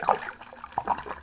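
Left Hand Hard Wired Nitro beer is poured hard into a glass, a brief close-up splashing gush with bubbly liquid trickling.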